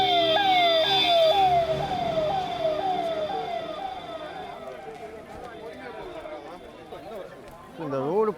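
Ambulance siren on the Sabarimala temple road, a loud wailing tone sweeping up and down nearby that slowly fades as the vehicle passes, with a voice speaking over it.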